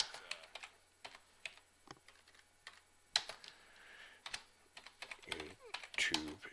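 Typing on a computer keyboard produces quiet, irregular clicks and key taps in uneven bursts, close up in a still room.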